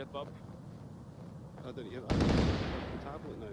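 Gunfire rattles through a PAL-VR shooter video game match, starting with scattered faint shots and then a loud burst of sustained fire that fades away.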